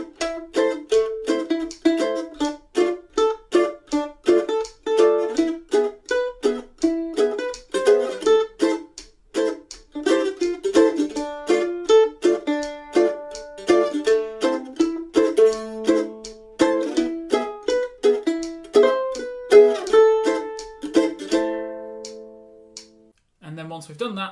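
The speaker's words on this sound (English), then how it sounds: "we're going to learn the core melody and some closed chords that will hopefully sound like this." Mandolin plays a tune, picking the core melody over closed chords in a lively swing rhythm, with steady plucked strums and single notes ringing clearly up close until a final chord decays.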